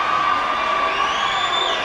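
A basketball crowd cheers and whoops right after a free throw is made, a loud, continuous wash of voices with high shouts rising toward the end, no clear speech.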